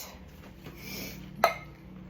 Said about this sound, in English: We're just going to dump that in there with the juice.